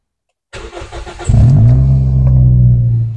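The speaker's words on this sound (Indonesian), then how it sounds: "Kita coba starter dulu mesinnya." A cold car engine is cranked by its starter for about a second, then catches and revs into a loud, steady running drone up close, with no talk.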